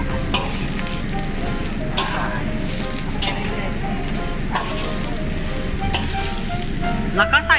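Carrot filling for vegetable spring rolls stir-fried in a pan, a steady close sizzle running throughout with intermittent scraping of the spatula and a few louder clatters at the end.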